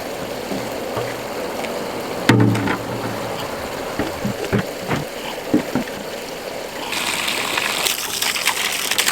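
Water pours from a natural spring into bottles, a steady outdoor splash and trickle with a few knocks and handling bumps, the flow growing brighter and louder near the end as a bottle fills.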